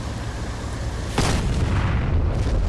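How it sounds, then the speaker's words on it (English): A TOW missile strikes its target in a single distant boom, a sudden broadband burst over steady helicopter rotor and engine drone that rumbles on afterward. "Tow missile, I guess. Good effects on target."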